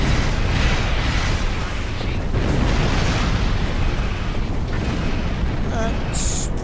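A ship fires a torpedo in the Star Trek Online space game, a loud sustained rumbling burst with a whooshing launch and a short high tone near the end, under continuous game noise and voice.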